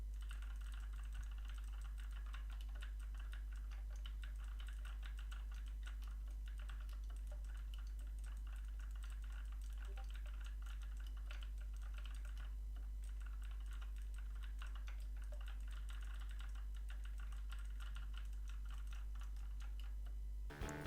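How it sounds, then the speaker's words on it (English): Rapid continuous clicking of a mechanical keyboard with blue switches, picked up by a Marvo Scorpion HG8805 gaming headset microphone about 35 centimetres away, fairly faint over a steady low hum for the whole stretch. "a keyboard equipped with whatever their name is, blue switches"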